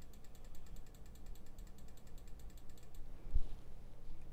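A run of small, rapid plastic clicks from the right button of a budget wireless gaming mouse near the mic, then a pause and one firmer click, all over low background hiss.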